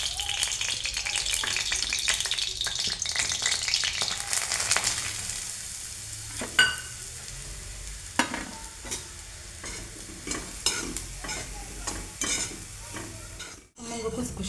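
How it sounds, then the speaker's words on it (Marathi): Crushed leftover chapati pieces fry in two spoons of ghee in a pan, a steady sizzle under repeated scraping and stirring strokes, with intermittent sharp clinks of the spatula against the pan. "2 चमचे तूप टाकून बारीक केलेले चपातीचे तुकडे यामध्ये बारीक भाजून घ्यायचे।"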